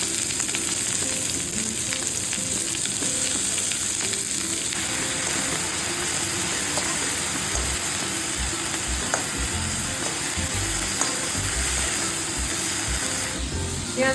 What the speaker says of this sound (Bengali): রসুনটা এরকম ভাজা ভাজা হয়ে গেলে তারপর আমরা পেঁয়াজটা দিয়ে দেবো।